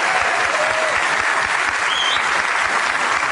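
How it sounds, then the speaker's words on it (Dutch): Dense, loud applause from a large television studio audience, a steady wash of clapping that fills the whole stretch without pause. "Applaus."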